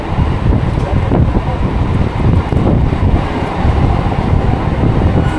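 A Digha–Howrah local train runs at high speed, a loud continuous rumble of wheels and rushing wind buffeting the microphone from onboard, steady throughout.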